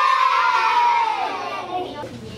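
A classroom of first graders lets out a loud, close group cheer of young voices that gradually fades and trails off.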